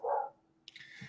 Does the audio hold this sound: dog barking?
yes